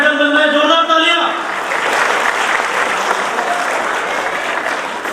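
An audience at an Ambedkar Jayanti celebration applauds a medal recipient, a dense burst of many hands clapping that swells and continues steadily after a voice speaks over the start.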